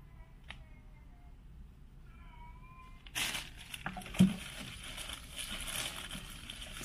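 Cats playing together at home, giving a few faint meows early on, followed by scuffling and rustling noise with a sharp bump midway, everything fairly quiet and close.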